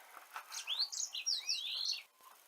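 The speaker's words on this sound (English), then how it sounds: "That is a loud bird." Loud, close chirping from a pet bird indoors: a run of sweet rising and falling whistled notes and tweets, continuous for a couple of seconds, with no voices.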